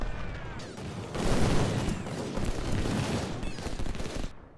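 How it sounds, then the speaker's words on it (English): Massed Civil War-era musket and cannon fire rolls on continuously in the strategy game Ultimate General: Civil War. A dense, crackling fusillade swells after the first second and keeps going, ending with a brief quiet. "The guns are still firing away."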